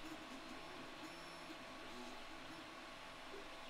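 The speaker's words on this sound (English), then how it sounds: "I've got several 3D printers whirring away in the background." Several 3D printers whir together in a room as a faint, steady mechanical hum, unbroken and without voices.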